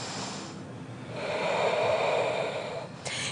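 Slow, audible breath during Ashtanga yoga practice, a soft airy exhale swelling then fading over a few seconds, close and quiet with no talking.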